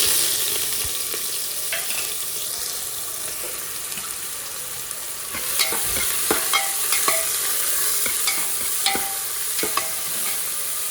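Chopped onion and garlic sizzle in hot coconut oil, a steady hiss underneath with spoon scrapes and stirring clatter growing more frequent in the second half; no voices.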